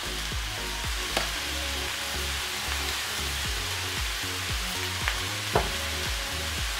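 Mixed vegetables stir-fry in a pan, a continuous close sizzle with a regular rhythm of stirring scrapes and a few sharper clinks of the utensil.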